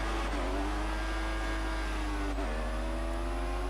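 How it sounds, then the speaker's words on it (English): Formula 1 car engine in the F1 2014 racing game revving steadily at a race start on the Russia circuit, a loud sustained whine with a brief dip in pitch partway through as it shifts into second gear. "Warming up the engine, the revs into second."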